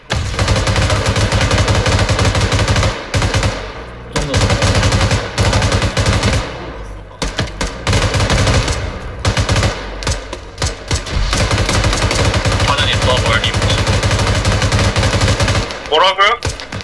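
Sustained automatic and rifle gunfire in Arma 3, a night Gulf War battle with US Marines, loud and near, rattling bursts nearly continuous with brief lulls, under occasional voices.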